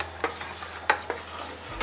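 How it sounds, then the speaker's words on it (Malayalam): A spoon stirs a milk and jackfruit seed pudding mixture in a pan on the stove, giving a few quick scraping strokes against the metal over a soft steady simmer, close and alone without talk. "ഈ പാലിൻ്റെ ചക്കക്കുരുവിൻ്റെ മിക്സ്ചർ നമ്മൾ കൈ എടുക്കാതെ ഇളക്കിക്കൊണ്ടിരിക്കണം"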